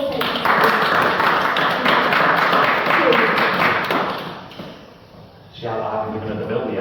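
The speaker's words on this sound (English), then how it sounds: "So maybe we can give him an applause for being so faithful." Congregation at a church gathering applauding their driver, a dense burst of clapping from many hands that fades out and then briefly picks up again.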